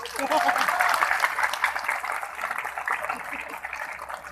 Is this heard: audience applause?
yes